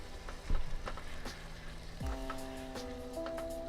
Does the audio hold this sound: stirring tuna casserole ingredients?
yes